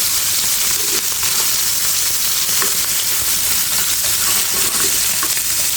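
Puthi fish frying in hot oil, turned to cook on both sides, gives a loud, steady, close sizzle with no pause and no voices.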